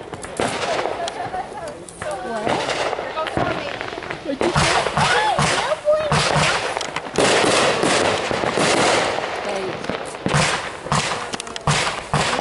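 Backyard fireworks on the 4th of July 2014 in Havre, Montana crackle and bang repeatedly, with sharp bursts and rapid crackling strings spread across the clip and people talking between the blasts.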